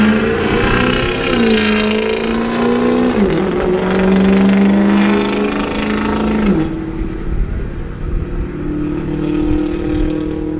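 A drag racing truck launches down the strip at a Ford and Shelby drag racing event. The engine roars loudly, climbing in pitch through several sharp gear shifts, then fades as it speeds off into the distance.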